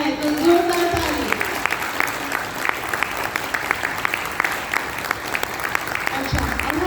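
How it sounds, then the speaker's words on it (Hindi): An audience claps loudly for a birthday at a yoga and guided meditation gathering, sustained dense applause with a voice speaking over the start and again near the end. "हमें इसलिए जोरदार ताली बजानी है"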